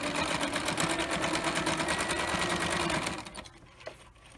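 Sewing machine stitching with a free-motion foot and ivory thread, running steadily and close for about three seconds, then stopping and leaving faint handling noise.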